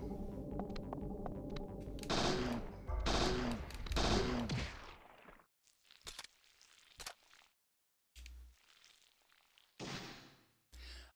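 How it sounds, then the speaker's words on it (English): Bursts of gunshots in Parasite Eve 2, loud clustered volleys at first, then short separated shots and sharp hits with silent gaps between them. "Oh no, my partner's being shot at."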